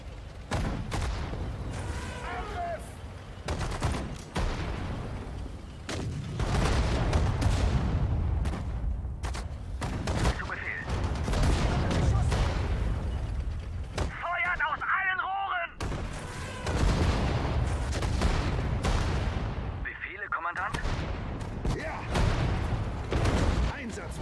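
Artillery and gunfire from the WWII strategy game Sudden Strike 4, a dense run of booms and shots in steady battle noise, with repeated unit voice callouts over it throughout.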